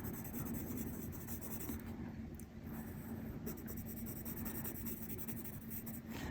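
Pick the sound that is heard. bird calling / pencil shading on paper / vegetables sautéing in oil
pencil shading on paper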